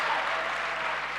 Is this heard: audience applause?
yes